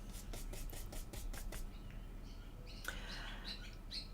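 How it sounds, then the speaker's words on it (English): Birds chirp and tweet outdoors somewhere beyond the room, a quick series of faint, high calls at first, then scattered, brighter chirps later over a steady low background hum. "can you hear the birds? There's birds also."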